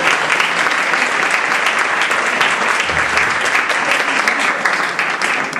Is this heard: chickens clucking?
no